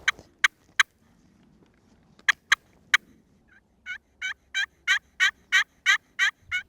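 Wild turkey gobbler in the California woods: three sharp separate calls come first, then another three, then a long fast run of loud rattling gobbles with clear outdoor quiet between them.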